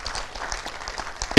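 Audience applause at a motivational talk, a soft, dense patter of many hands clapping steadily at a moderate distance, ending in a sharp loud burst.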